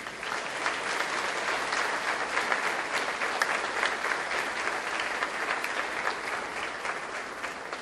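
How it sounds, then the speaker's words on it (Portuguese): A church congregation applauds in praise during a service, steady, sustained clapping from many hands filling the room evenly at moderate loudness for several seconds. "Louve a Jesus Cristo com uma salva de palmas, por favor."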